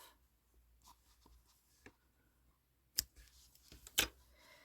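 Scissors snip off the woven-in yarn ends of a crocheted Halloween stress-ball cauldron, giving two sharp, close cuts near the end among quieter rustling and handling.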